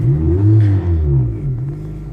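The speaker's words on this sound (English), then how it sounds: "Let's make some noise. Right now the cutout is off." A 2006 Toyota Corolla XRS with its exhaust cutout closed revs inside a parking garage, giving a loud, close, throaty engine swell that rises and falls a couple of times before easing to idle.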